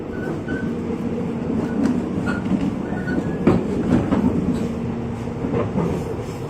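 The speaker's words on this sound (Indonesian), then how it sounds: "satisfying banget dengerin suara keretanya lagi ngebut ya" An airport rail link train runs fast with a steady rumbling roar, rhythmic clacking of wheels over rail joints and occasional faint squeals, continuous and close throughout.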